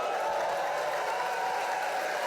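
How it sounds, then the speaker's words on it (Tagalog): An audience applauds with dense, steady clapping that fills the whole stretch at moderate volume, a continuous crowd wash without separate claps standing out. "Palakpak kayo ng palakpak"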